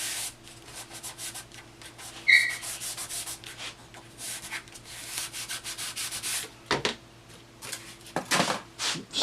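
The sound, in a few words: rubbing paper onto linoleum block for print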